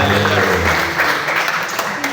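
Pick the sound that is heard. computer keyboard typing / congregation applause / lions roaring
congregation applause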